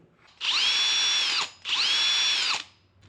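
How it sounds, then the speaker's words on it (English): A cordless drill spinning a drive pulley and long V-belt whirs up to speed twice in quick succession, each high-pitched spin lasting about a second before winding down, loud and close. "The cordless drill spun the belt"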